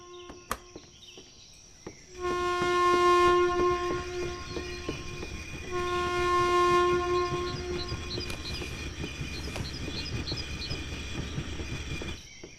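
Train in the video game INFRA rolls past with a loud, sustained horn-like tonal blare over rumbling wheels, repeating a second time, then the rumble settles as it comes to a stop.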